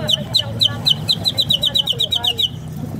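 A bird-sound toy built into a coin bank chirps in a quick, regular series of bright, high tweets for about two and a half seconds, close and fairly loud over a low background hum.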